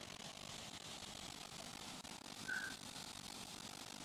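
An airplane taking off in the Roblox video game: a steady, droning engine roar with a faint whine, holding at an even level with a small swell near the end, no talking.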